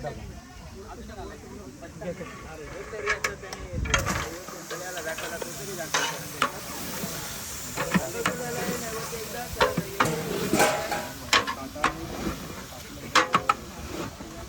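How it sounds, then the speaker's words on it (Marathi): Mutton fries with hing in a large pot over a traditional wood-fired chulha, a continuous sizzling hiss broken by irregular scraping and clanking as it is stirred, with someone talking throughout. "मटण टाकल्या ते ताबडतोब ढवळतो जेणेकरून चिकटू नये."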